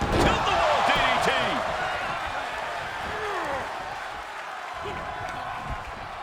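A DDT slam in the WWE 2K22 wrestling game, where a wrestler is driven headfirst off a tilt-the-wall move, lands as a loud impact beneath a constant roaring arena crowd and busy game commentary ambience.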